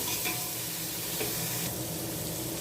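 Mint leaves sautéing in a pan while making tomato rice, a steady close sizzle and crackle with light stirring scrapes throughout, no voices.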